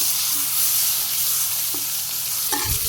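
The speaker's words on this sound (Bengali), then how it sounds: "প্রথমে হলুদ আর লবণ মাখিয়ে নিচ্ছি দিয়ে দিন তারপর হালকা একটু ভাজি করে উঠিয়ে নিই" Fish rubbed with turmeric and salt fries in hot oil, giving a loud, dense, continuous sizzle with a couple of brief clinks near the end, close and without voices.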